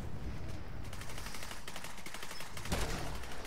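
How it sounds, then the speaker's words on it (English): Video game gunfire and explosive launches from a turret in The Division 2, a dense rattle of rapid shots with sharper heavy blasts near the end, loud and close. "And we're launching mortars with the turret"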